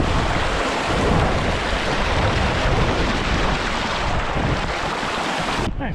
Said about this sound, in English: It's starting to rain a little bit harder on us now.